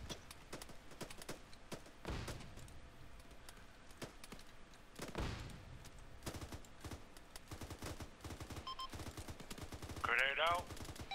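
Rapid bursts of gunfire and scattered single shots crackle through a military video game skirmish in a trench, running steadily at moderate loudness with a denser flurry near the end.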